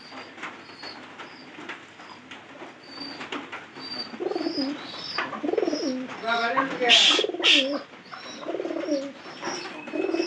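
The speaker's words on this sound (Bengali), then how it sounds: "কবুতর কিন্তু শুকনো খাবার পাইতেছে এবং কি ঘরের ভিতরে থাকতেছে" Pigeons kept indoors during rain and fed dry feed coo repeatedly in soft overlapping rolls, with wing flutters and rustling nearby and a person's voice intermittently in the background.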